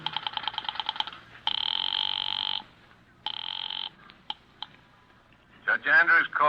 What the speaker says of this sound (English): I went out to the switchboard and dialed the courthouse number.